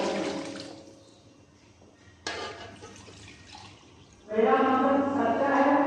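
Water pours into a cooking pot for potato rice pulao in a home kitchen, a splashing stream that fades, cuts off, then returns louder and fuller, with a few handling knocks.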